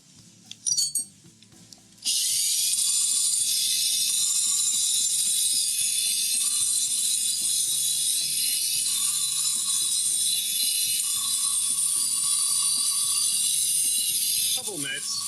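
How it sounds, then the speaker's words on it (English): Lapping a Briggs and Stratton EX Series engine cylinder head flat, sliding it back and forth on abrasive: a steady loud rasping scrape lasting most of the clip after a few brief knocks at the start. "by moving it in and out, it puts fresh material on for grinding"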